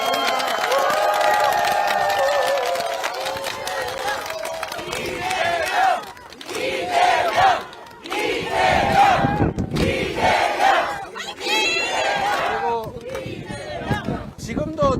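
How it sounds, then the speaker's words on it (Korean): A large outdoor crowd at a political rally beside Uirimji reservoir in Jecheon cheers and claps in repeated loud surges. Voices shout and chant together, with brief quieter gaps between the swells. "우리 응원의 박수 한번 부탁드립니다."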